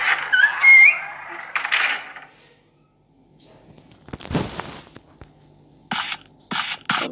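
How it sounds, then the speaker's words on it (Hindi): A door creaks open in a horror video game with squeaky, scraping groans and a thud, amid scattered short squeals and scratchy game noises, fairly loud and close. "और अरे खुल जा, ये खुला मैंने दरवाजा।"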